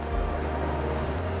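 A Suzuki DF 140B outboard engine drives a Focchi 640 RIB planing at speed. It makes a steady low motor drone under rushing wind and water noise, loud and continuous.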